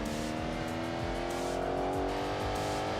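Race car engines in the PS2 game Enthusia Professional Racing rev and whine through gear changes, with tire noise over a continuous loud roar from a nearby pack of cars.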